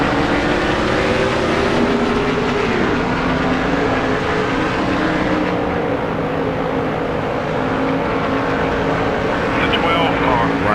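NASCAR Winston Cup stock cars racing at Homestead in the PS2 game NASCAR Thunder 2003, a steady, loud engine drone with sustained tonal whine throughout, faint commentary voice mixed underneath.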